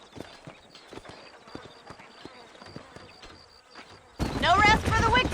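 Horses in Red Dead Redemption clip-clop along in a steady, evenly spaced hoof rhythm with faint insect buzzing, before a loud voice cuts in over the final second.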